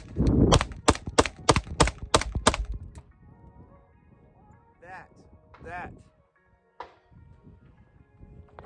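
A Glock 47 pistol fires about seven quick, loud, close shots in rapid succession, followed by quieter handling and someone speaking.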